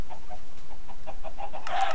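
Chickens on a Minecraft chicken farm cluck in the game, a steady run of short, soft clucks repeating at an even pace, ending in a louder, brighter squawk-like burst.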